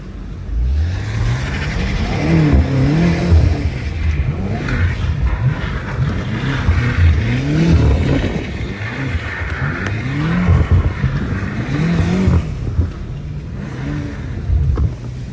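A BMW F90 M5 drifts through an intersection, its engine rising and falling in repeated revving surges over a steady loud roar, with tyre and road noise underneath and no talk.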